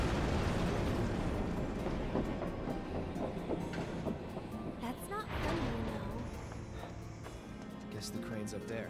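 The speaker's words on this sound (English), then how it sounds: "trains up there." Trains rumble and clatter in Final Fantasy VII Remake, a dense, continuous roar of rail noise with metallic clanks and bursts, while a person talks over it.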